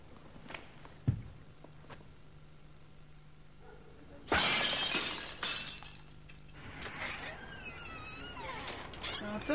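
Something breakable shatters with a sudden loud crash, a burst of scattering fragments tinkling off over a couple of seconds, followed by lighter clinks and some voice sounds in a radio drama.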